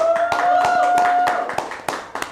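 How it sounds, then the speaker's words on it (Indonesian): Studio audience clapping to welcome a guest on an Indonesian talk show: a few sharp, separate claps in a loose, uneven rhythm, close and fairly loud, with a steady tone underneath. "Tepuk tangannya dulu."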